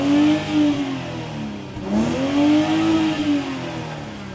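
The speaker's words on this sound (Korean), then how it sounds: "자, 지금은 X5의 머플러 소리를 들려드리도록 하겠습니다." The exhaust of a new BMW X5 SUV drones loudly and close by, with the engine pitch swelling and falling through a few revving sweeps over a few seconds.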